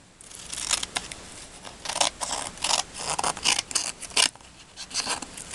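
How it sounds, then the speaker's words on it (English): Tim Holtz scissors snip through paper being trimmed into a card background, a close, rapid series of crisp cuts and rustles with no talking. "Tim Holtz scissors are perfect for this."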